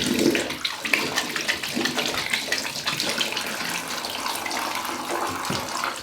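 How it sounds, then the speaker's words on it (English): Running tap water pours steadily into a bathroom sink while hands are washed during an evening skincare routine, a continuous close splashing hiss with no talk. "The next thing I usually do is I wash my hands."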